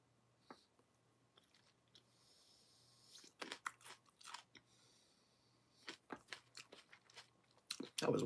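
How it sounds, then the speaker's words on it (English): Someone eats a crunchy snack up close in a quiet room, with scattered bites and crisp crunching chews coming in irregular bursts. "I'm just gonna sit here and enjoy my snack for a few minutes."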